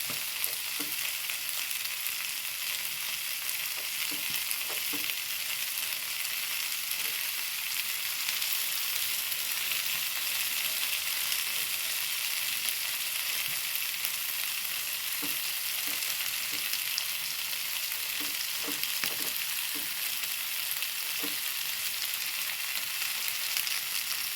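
Masala-coated eggs fry in a pan with a steady, dense sizzle running throughout, broken now and then by soft scrapes and clicks of stirring, with no talk.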